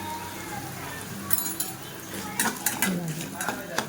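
A spoon clinks and scrapes in a pan as homemade red chili masala is mixed into bitter gourd, with irregular metallic taps growing busier toward the end.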